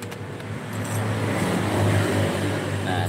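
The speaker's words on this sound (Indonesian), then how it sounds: "Stang sehernya bunyi." A motorcycle engine idles and revs with a worn piston connecting rod, giving a steady low running drone that builds slightly in loudness midway, close by with no talking.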